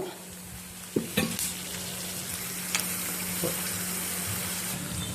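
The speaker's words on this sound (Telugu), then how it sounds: "నూనె కాగింది కదా ఆవాలు వేసేసుకుందాం నాలుగు ఎండుమిరపకాయలు వేసుకుందాం" Mustard seeds and four dry red chillies frying in hot oil for a ginger-mango pickle, a constant bright sizzle with a few sharp pops and clatters near the start.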